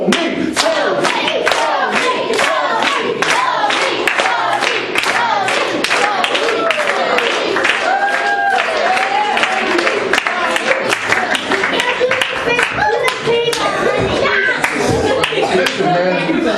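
A crowd at a live street magic show in a community center claps in rhythm and chants loudly, children's voices among them, close and continuous throughout.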